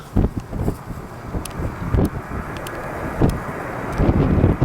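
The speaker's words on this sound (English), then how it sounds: "So here Alaskan Airlines takes off, and I won't see them until Sunday." An Alaska Airlines plane taking off in strong wind: a low, distant jet roar almost buried under heavy gusts buffeting the microphone, swelling and fading in uneven waves.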